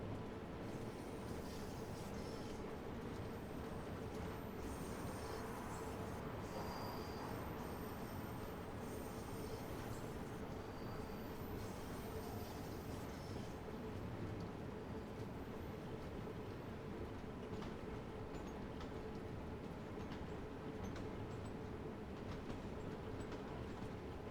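A London Underground Bakerloo Line train in the video game Train Sim World 2 rumbles steadily along the track, a continuous low drone with faint rattles, no voices.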